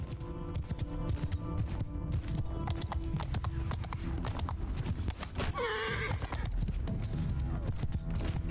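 Horse hooves clip-clop at a gallop in Mount and Blade Bannerlord, a medieval battle game, with a whinny rising midway, all set against dense, loud battle noise and no voice over it.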